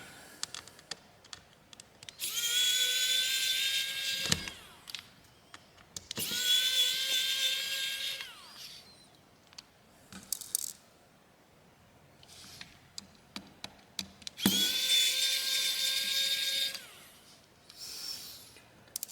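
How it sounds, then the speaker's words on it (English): Small electric screwdriver unfastening screws from a Samsung Galaxy A36 phone during a teardown, three sustained whirring bursts of a few seconds each with quiet pauses and faint clicks between them, close and moderately loud. "So let's get the rest of these screws out."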